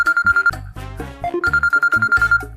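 A mobile phone rings loudly nearby with a repeating electronic ringtone of quick, regular pulsing tones that runs in two bursts with a short break between them.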